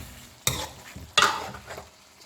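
A spoon stirs chicken and potato curry in a pot after water is added, with two distinct scraping, splashing strokes and soft sizzling between them, close and clear with no talking.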